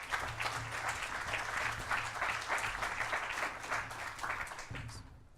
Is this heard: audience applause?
yes